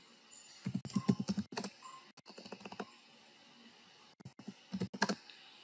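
Quick bursts of typing on a computer keyboard while coding in VSCode, clustered keystrokes in short runs separated by pauses, close and clear with no speech.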